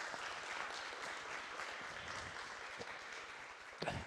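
Audience at a community panel event applauding, a dense, diffuse wash of clapping heard from a distance at low level, with one louder close knock near the end.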